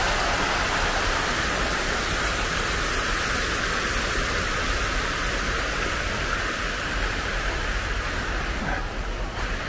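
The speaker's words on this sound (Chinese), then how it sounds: "你看潭塘流水啊，还造了一些这种瀑布的景观" An artificial landscaped waterfall and flowing pond water give a constant, full rush of falling water. It stays loud and unbroken throughout, with no talking.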